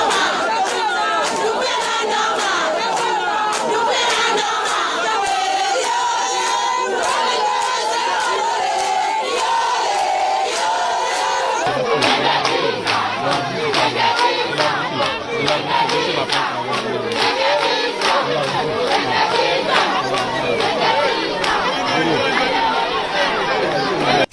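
A large island crowd on the Îles de Los, Guinea, turned out en masse for a presidential initiative, chattering and calling out in a dense, continuous hubbub, with scattered claps and shouts sharpening in the second half.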